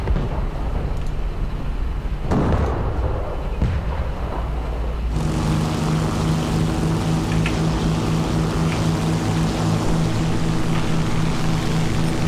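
Aircraft engine in the War Thunder combat game: a steady, loud propeller drone that thickens into a denser, constant roar partway through, with no talking over it.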